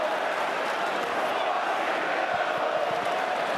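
Stadium crowd at an XFL North Division Championship football game between the Seattle Sea Dragons and DC Defenders, a dense, continuous roar of jeering fans with a voice speaking over it.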